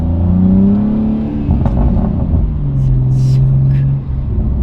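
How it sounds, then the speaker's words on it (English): A BMW M2 engine rumbles loudly up close, its exhaust rising in a rev and settling back to a throaty idle. "love this exhaust. Genuinely love this exhaust."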